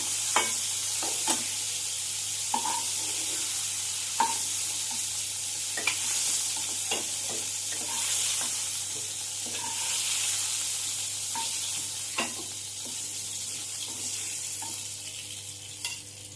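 Prawns fry in a pan in a steady, fairly loud sizzle, with sharp clicks and clatters of a utensil moving and turning them every second or so; no voices.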